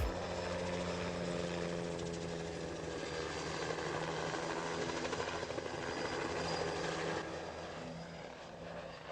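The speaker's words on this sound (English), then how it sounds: "This pilot's harvesting trees with a helicopter." A helicopter working low over a tree harvest, its rotor and turbine roaring loud and steady with a throbbing blade chop throughout, fading slightly toward the end.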